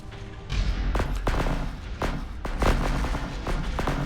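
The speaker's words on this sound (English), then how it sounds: "Lots of good explosions there." Space battle explosions from the video game Astrox Imperium, a rapid series of booming blasts and crackling weapon fire bursting at irregular intervals over a continuous rumbling background.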